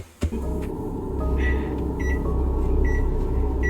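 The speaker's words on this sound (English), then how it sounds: "the microwave sounds as if someone is pushing its buttons" A steady microwave hum with a few short, high beeps scattered across it, like buttons being pressed, close by and with no voices.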